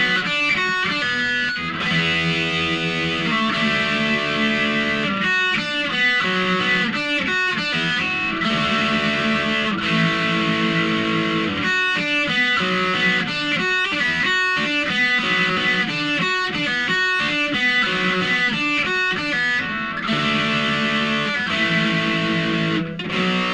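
Distorted electric guitar plays the driving rhythm part of a song at full speed, a dense, continuous chugging pattern of chords and palm-muted notes, loud and steady with no voices.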